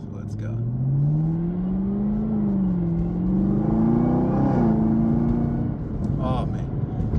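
The supercharged 650 hp engine of a 2023 Camaro ZL1 pulls hard, its loud, deep drone climbing steadily in pitch with a burbling edge as the car accelerates.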